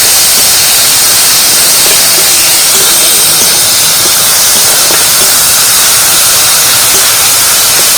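A whole dried red chilli dropped into hot oil for a mustard brinjal curry, giving a loud, steady, dense sizzle and hiss that fills the whole stretch without pause.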